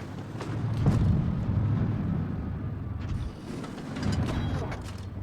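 A tank cannon firing in the mobile game World of Tanks Blitz, rumbling heavy blasts and mechanical clatter amid ongoing battle noise, fairly loud and dense.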